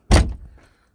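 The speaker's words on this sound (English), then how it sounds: "the door closes" A single close car door shuts with a sharp thud followed by a brief rattling decay, heard alone in a quiet space.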